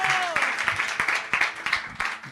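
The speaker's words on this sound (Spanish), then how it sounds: "Denle un aplauso fuerte al Señor." Church congregation applause during a Spanish-language worship service, a dense wash of many hands clapping steadily throughout, with a brief voice at the start.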